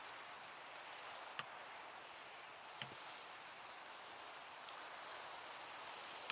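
Rain falls steadily in the Minecraft modpack Enigmatica 6, a soft, even hiss of downpour with a couple of faint isolated ticks, quiet and without voices.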